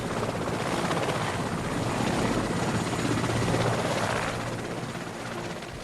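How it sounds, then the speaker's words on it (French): An aircraft, likely a helicopter, settling onto hardened lava beside an active volcanic crater in the Afar region of Ethiopia, its engine and rotor giving a steady, loud, broadband roar that swells slightly and then eases. "Le pilote, qui ignorait totalement l'existence d'un tel cratère, décide de se poser sur la lave durcie, à proximité immédiate du puits actif."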